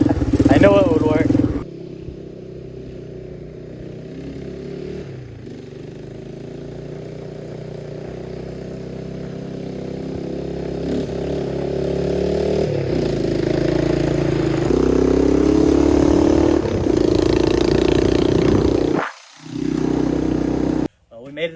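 A small Yamaha 200E ATV engine drones continuously while towing another ATV uphill, its note straining and rising midway before a brief dropout near the end. A voice may be faintly present.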